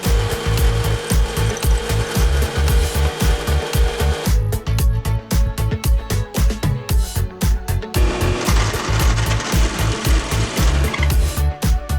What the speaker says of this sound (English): drill a small hole first